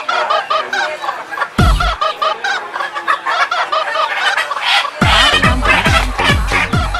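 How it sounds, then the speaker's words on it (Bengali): Chickens at a Barishal poultry market cluck and squawk loudly and continuously up close, with occasional deep thumps and rumbles of market activity underneath. "মুরগি নিয়ে যান ভালো মুরগি আছে"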